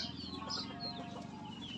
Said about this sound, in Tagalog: ito sila mga manok